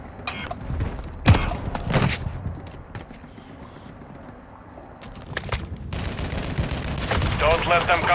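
Gunfire in Call of Duty: Modern Warfare III war mode, a few sharp shots and short bursts over a low battlefield rumble, with a louder crackling burst near the end.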